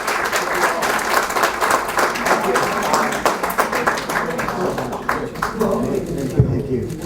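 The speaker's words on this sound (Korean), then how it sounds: "큰 박수 부탁드리겠습니다." An audience at a mayoral fundraiser dinner breaks into loud, dense applause that carries on steadily and thins toward the end, with some voices mixed into the clapping.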